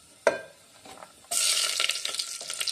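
Onions, whole garam masala and cashews hitting hot oil in a pan, starting with a sharp clack and then bursting into a loud, steady sizzle with crackling spatters.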